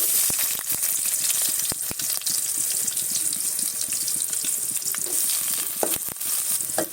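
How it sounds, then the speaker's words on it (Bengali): Chopped onion sizzling loudly in hot oil, stirred now and then so a utensil scrapes and knocks against the pan, with the steady frying hiss running throughout and no talking. "তো পেঁয়াজ কুচিটা দিয়ে আমি একটু নেড়ে নিচ্ছি। নেড়ে একটু ভালো করে ভেজে নেব,"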